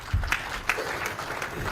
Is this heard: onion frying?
no